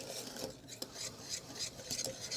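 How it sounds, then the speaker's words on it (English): A whisk scrapes and rasps repeatedly through a chocolate mixture in a pot, with close, steady stirring strokes at a quiet level and no talking. "keep whisking it for about 5 minutes"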